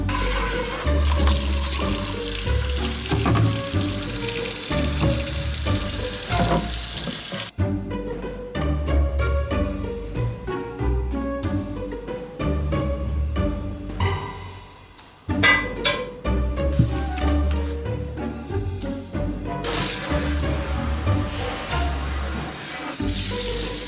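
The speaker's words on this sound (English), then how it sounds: "they are dishwasher safe, but I prefer to wash them by hand" Henckels non-stick pans being hand-washed in a kitchen sink, with running tap water splashing and rushing steadily throughout, broken by clinks and scrubbing clatter as the water flow changes.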